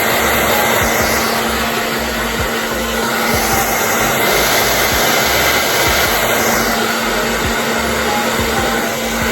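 A hair dryer blows hot air onto a wig, a loud, steady whirring roar that runs continuously without any talk.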